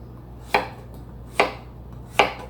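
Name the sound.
chopping zucchini with a knife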